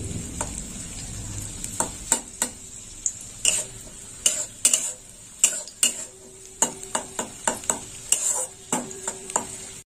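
Soaked cashews and raisins frying in a pan, a faint sizzle under a long run of sharp metal clicks and taps from a spoon stirring against the pan, no voices.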